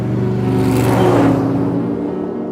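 A loud Morgan car roars past close by in Malvern, its engine rising to a peak and then fading with a deep rumbling tone.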